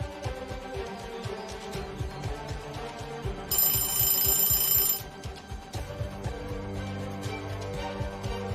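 A telephone rings in a burst of bright electronic trills at moderate loudness, with music or background sound running underneath before and after the ringing.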